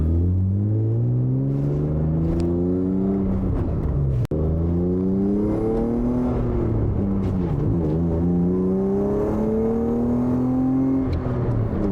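A track-built BMW E36 accelerates and shifts through gears, its engine note climbing in repeated rising sweeps with a drop at each shift, loud and close throughout.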